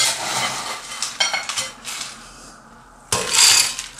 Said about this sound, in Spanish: Ahora le echamos el hielo picado.